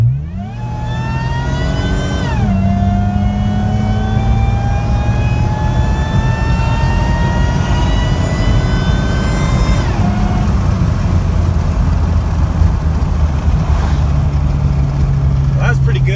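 A supercharged 2003 Honda Pilot with a J35 V6 accelerates hard through its gears, its engine note and supercharger whine rising steadily, dropping at each upshift around two and ten seconds, loud and close throughout.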